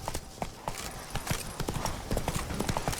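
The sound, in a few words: horse galloping in The Witcher 3 video game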